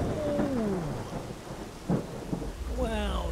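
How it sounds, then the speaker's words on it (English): Rolling thunder rumbles through a rainstorm in the farming video game Farming Simulator 19, low booms under a steady patter of rain, with a couple of sharper cracks, no voices. "Wow, that thunder is coming down."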